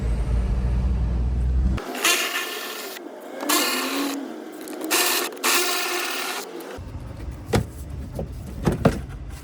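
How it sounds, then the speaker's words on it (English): A ratchet removes 10mm bolts around the turn signal light assembly on a 2019-2025 Nissan Altima, with loud, close bursts of rapid clicking and whirring, then quieter taps and metallic clinks. "there are still a few 10mm bolts here, there, and there. Now we're gonna go ahead and remove those."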